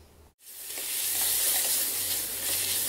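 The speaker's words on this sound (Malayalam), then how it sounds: "അതിനുശേഷം വീണ്ടും നന്നായിട്ട് തന്നെ വഴറ്റിയെടുക്കാം" Onion sautéing with ginger-garlic paste and green chilies for a chicken salna gravy: after a brief silent gap, a loud continuous sizzle and crackle builds up and holds steady, close by, with faint stirring.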